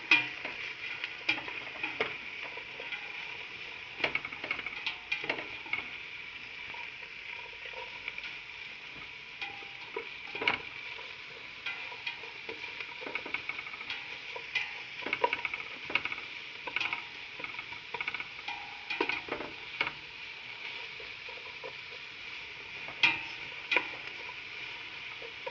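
Celery and carrots are stirred in a pot as they sizzle, a steady close frying hiss broken by repeated scraping and clicking of the spoon against the pot.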